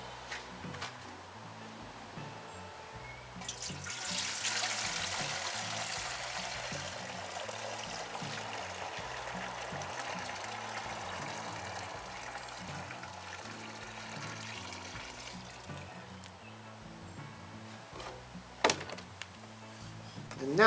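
Comfrey fertiliser is poured from a bucket into a watering can, a continuous liquid splashing and trickling that swells early and then runs steadily for over ten seconds, ending with a few clunks of the containers.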